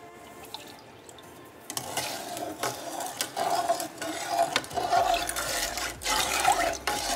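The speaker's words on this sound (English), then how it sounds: "All right, so water's boiling, I'm turning it off now" Water boiling in a pot on a home kitchen stove gives a steady, close hiss of rolling bubbles that swells in after a quiet start and keeps churning without talk.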